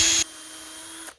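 A power drill boring a pilot hole into plywood: a brief high whine gives way to a steady lower motor hum for about a second before spinning down, close and with no talk.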